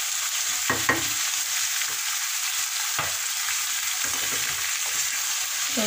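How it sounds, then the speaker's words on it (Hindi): Potatoes for aloo bhujia fry in hot oil, giving a steady loud sizzle throughout, with scraping stirs breaking in every second or two. "इस तेल में जो गरम हो रहा था इसमें मैं ये डाल दूंगी और खूब अच्छे तरीके से इसे मैं ऊपर नीचे करके मिक्स कर लूंगी।"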